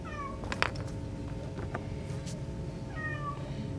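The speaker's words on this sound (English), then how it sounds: "The cat wants to play." A house cat meows several times, fairly near, with quiet pauses between calls over a low steady background hum of a vintage Zenith Transoceanic radio in a repair room.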